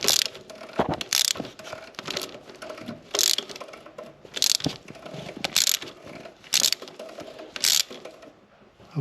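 A ratchet snugs up the oil drain plug on a 2019 Mercedes GLA45 AMG with about seven quick bursts of close, crisp clicking, separated by short pauses.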